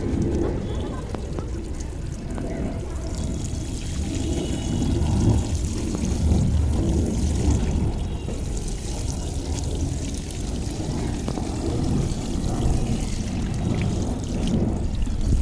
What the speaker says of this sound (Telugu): వాటర్ వేసేద్దాం ఇప్పుడే